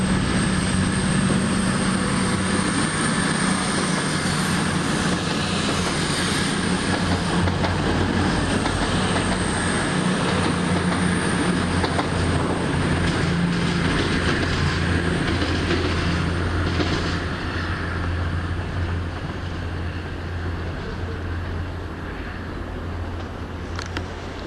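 A train bound for Nottingham rumbles past at close range in Leicester, a loud continuous roar with faint rhythmic clatter of wheels, easing slightly toward the end.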